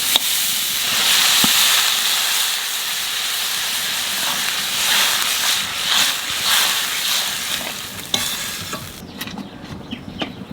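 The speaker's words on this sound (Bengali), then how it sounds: "আলু ভাজা হয়ে গেছে, জল দিয়ে দেবো" Water poured onto frying potatoes in a pan makes a loud, steady steam hiss and sizzle that runs close and continuous, with stirring scrapes and a few pops before it quiets near the end.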